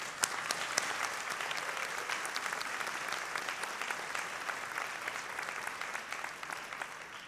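Sustained applause from a large audience fills a SUNY Westchester Community College spring commencement ceremony, a dense, even patter of many hands clapping continuously without letup.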